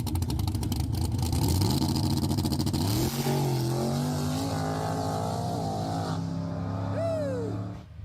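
A Chevy car on its second nitrous kit roars hard at full throttle, its engine note climbing steadily through the gears, then easing off and fading at the end.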